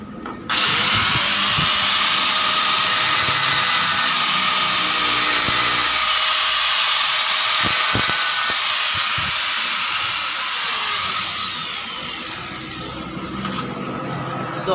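An angle grinder cuts into Yamaha SZ motorcycle clutch damper parts, a loud, close, sustained high-pitched screech that runs nearly the whole time and shifts tone as the disc bites into the metal.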